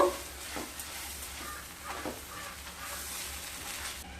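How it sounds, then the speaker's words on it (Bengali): Ginger paste, ground black pepper and cumin powder are sautéed in a pan, giving a soft, steady sizzle with occasional scraping stirs, faint and without talk. "এক চামচ আদা বাটা এক চামচ গোলমরিচের গুঁড়ো জিরে গুঁড়ো দিয়ে দেব হাফ চামচ দিয়ে খুব ভালোভাবে কষিয়ে নেব"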